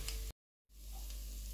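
Spice powders sautéing in a pan for an okra dal curry, a dense steady sizzle cut by a brief silent break before the frying hiss resumes.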